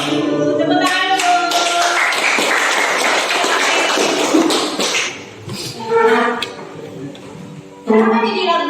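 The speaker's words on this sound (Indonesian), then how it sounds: "Tepuk tangan dulu." Students stand in a classroom and clap their hands together in a dense, loud burst lasting several seconds, then voices and a few scattered taps follow.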